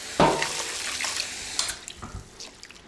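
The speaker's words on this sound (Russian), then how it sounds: "Икру необходимо один раз промыть холодной водой." Cold tap water runs over fish roe being rinsed in a kitchen, a steady close splashing stream with a few sharper splashes and drips, no talking.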